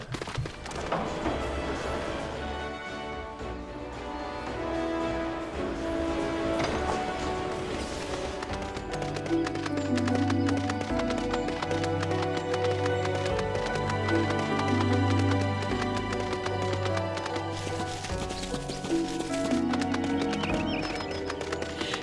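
A unicorn mount galloping in Final Fantasy XIV, rapid rhythmic clip-clop hoofbeats with neighing and whinnying, loud and close, layered over sustained game music.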